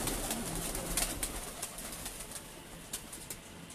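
A flock of pigeons on a village rooftop, with soft cooing and occasional wing flutters over faint background hiss, fairly distant, no clear talk.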